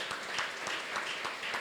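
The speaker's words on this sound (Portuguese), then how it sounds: "Vamos receber essa nova aprovação com uma forte salva de palmas" Applause from a church convention crowd after a unanimous vote, a steady wash of many hands clapping at moderate distance, filling the short stretch without speech.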